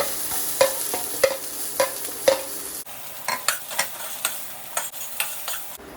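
Shallots and mustard seeds sizzle in hot oil while a utensil scrapes and stirs the pan in a steady rhythm of close, distinct strokes.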